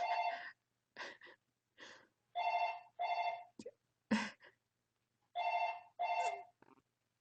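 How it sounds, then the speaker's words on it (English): A phone rings in a repeating pattern of short electronic tone bursts separated by brief gaps, clear and alone in a quiet room. "Isn't that fantastic that my phone can tell me who's calling out aloud?"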